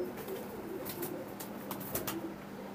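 Imported Sallara pigeons coo softly in low, wavering tones, with occasional wing flutters and scuffling noises around a cage, heard alone with no talk.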